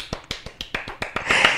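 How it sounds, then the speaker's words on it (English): A run of sharp, snappy hand claps, about eight quick strikes spaced evenly and close to the listener, ending in a slightly longer burst of clapping, with no one talking. "That was a clap"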